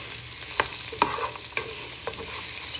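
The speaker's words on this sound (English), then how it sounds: "Add that to your pan with your chorizo. You want to give that a good stir." Onion, garlic and chorizo fry in a hot pan under repeated stirring, a steady close sizzle broken by several sharp spatula scrapes and clacks at a loose rhythm.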